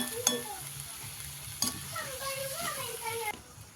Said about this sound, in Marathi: आता थोडंसं हलवून घेऊ थोडं झाकून घेऊ